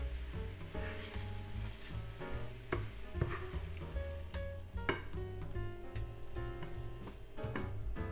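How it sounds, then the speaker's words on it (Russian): Cabbage, spices and rice sizzle and crackle in a frying pan as they are stirred, a steady close hiss with soft scraping, while music plays underneath. "Все хорошо перемешиваем на сковороде."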